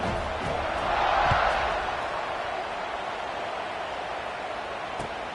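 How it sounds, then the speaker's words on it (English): Stadium crowd at a college football game buzzing after a touchdown, a broad distant murmur that swells briefly and then settles into a steady hum. "this crowd is buzzing after that last score"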